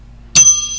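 A single bright ding of a small bicycle-style bell rings sharply once, its clear metallic tone lingering and fading over a quiet background.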